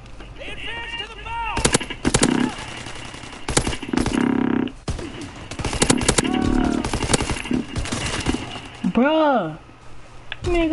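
Rapid gunfire and loud shotgun blasts in the World War II shooter Call of Duty WW2, close and repeated in bursts, with someone talking over the shots.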